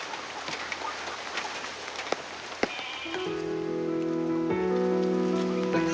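Rain falls on a village in Bangladesh, making a steady soft hiss of drops with a few louder taps. Gentle music rises and plays over the rain in the second half.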